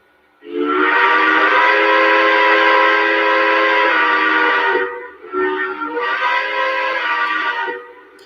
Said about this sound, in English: I like that whistle. It's haunting.